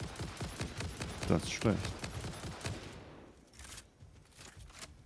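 Rapid enemy gunfire in the video game Satisfactory, a fast rattling burst of shots that fades out after about three seconds, with a few sparse shots after it and someone speaking briefly over it.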